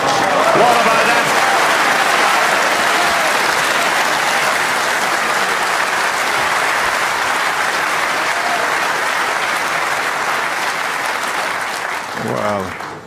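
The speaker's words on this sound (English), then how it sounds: "that round of applause, it sounded like he just won a tournament" Snooker spectators applaud a fine positional shot in a professional match, a long, loud, steady round of clapping that slowly fades, with a commentator's voice coming in near the end.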